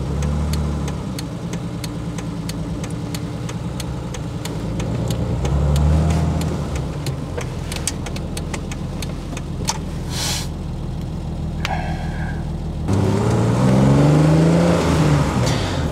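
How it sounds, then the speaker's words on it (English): A 1989 BMW E30, originally a 318, drives through town traffic, its engine note steady then climbing through revs, with a clunk and a louder acceleration near the end, heard from inside the car. "this is a BMW E30 1989 model that originally started its life as a 318."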